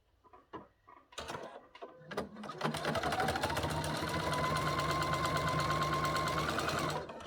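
A sewing machine fitted with a topstitch needle stitches a quilt panel: a few hesitant start-up clicks, then a fast, even, rattling run of stitches that holds steady for several seconds before stopping abruptly.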